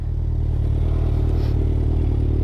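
A motorcycle fitted with a double silencer exhaust idles close by, giving a steady, deep rumbling drone with no pauses or revs.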